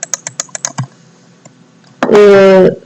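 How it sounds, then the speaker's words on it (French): Several quick, close keyboard clacks tap out in a short burst, followed by a pause and then a loud, buzzy tonal sound lasting under a second. "Je sais pas si vous entendrez mon clavier ou des trucs comme ça."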